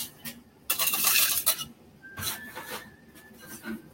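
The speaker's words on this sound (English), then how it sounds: "A little less ice this time." Ice goes into a mint drink being mixed at a bar: a few clattering, rattling bursts of cubes against a glass or shaker, close and fairly loud, with no talking.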